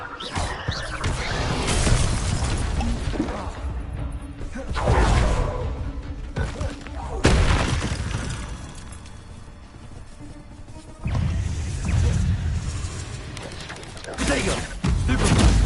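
Bombarda blasting-spell explosions in the Hogwarts Legacy video game, repeated loud bursts and crashes in several waves with whooshing between them, under shouted spell names.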